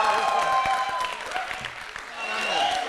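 Audience clapping at a Holi comedy show, with a dense, steady patter of many hands close by that dips slightly mid-way and then swells again. Voices mix in with the applause.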